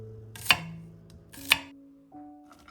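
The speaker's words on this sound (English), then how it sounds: "Then cut the shallots into small pieces and separate the layers." A knife chops shallots into small pieces on a cutting board, with two sharp, separate strikes about a second apart and a faint tap near the end, close and clear with no talk.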